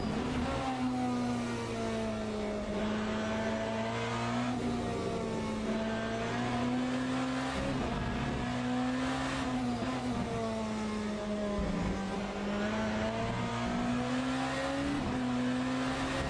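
BMW race car in Le Mans Ultimate, engine loud and continuous as it brakes and accelerates, pitch dipping under braking then climbing through the gears with steady revving throughout, no talk.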